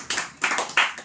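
An audience at a church sermon claps in a few brief bursts, the claps sharp and moderately close, with no talking over them.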